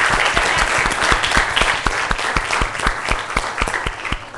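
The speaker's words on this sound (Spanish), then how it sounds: "Un aplauso para todos" Dense, loud applause from an audience at a medical institute's talent expo event, a steady wash of many hands clapping close by for several seconds with no talk over it.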